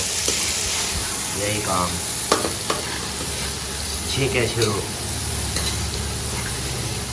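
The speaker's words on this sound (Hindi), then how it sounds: "मिर्चों का भी तड़का लगेगा तो फिर ये छिट्टी मिर्चें निकलेंगी" Burnt onions and chillies sizzling as tadka in a pan, a continuous loud frying hiss with stirring scrapes and clinks, while someone talks over it at times.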